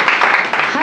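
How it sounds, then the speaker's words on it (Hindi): Audience at an open mic poetry performance claps loudly in a brief, dense burst of applause, with voices mixed into the clapping. "तो एक बार तालियां हो जाए।"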